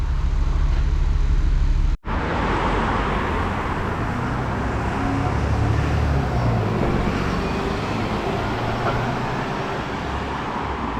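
A Stagecoach bus, a 17-plate, drives along with a steady low engine rumble and broadband road noise, close and continuous after a brief cut near the start, no voices.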